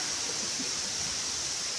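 Jagir waterfall in Banyuwangi, a continuous faint hiss of falling water heard at a distance, steady and unbroken with no voices.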